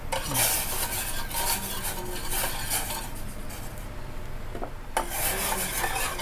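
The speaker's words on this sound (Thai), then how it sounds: "คนจนก่อนให้น้ำตาลทรายละลายนะคะ" A spoon stirs sugar into a pot of liquid mixed with vinegar until it dissolves, repeated scraping and rubbing against the metal pan in a steady circular rhythm, close and fairly quiet.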